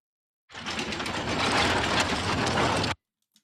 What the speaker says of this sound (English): this is a gear and kind of crank sound effect that you would hear in a warehouse